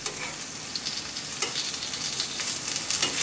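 Paneer tikka pieces fry in ghee on a tava over moderate heat, a close, steady crackling sizzle with a few brighter pops and spatters rising through it.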